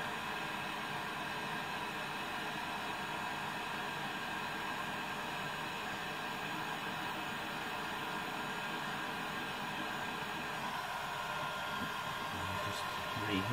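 Steady hot-air roar from a heat gun warming polyethylene plastic for a kayak weld, continuous and close, with a brief change in tone near the end.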